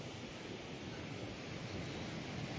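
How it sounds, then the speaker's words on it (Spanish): Strong, heavy surf rolls continuously at Playa Santiago beach on the Bahía de Santiago in Manzanillo, Colima, a steady broadband wash of breaking waves with some wind, no voices. "lo que estamos observando es un oleaje fuerte en esta zona"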